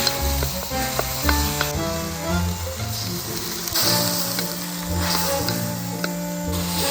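Marinated beef for Cambodian lok lak sizzles steadily in a hot pan as it stir-fries, a continuous close crackle and hiss with occasional clinks and stirring noises over a low background hum.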